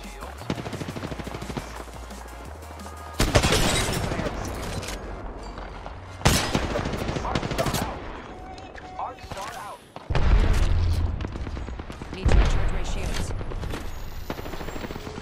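Apex Legends gunfire at Skull Town comes in several loud bursts separated by quieter stretches of game noise, each burst a sharp cluster of shots that then trails off.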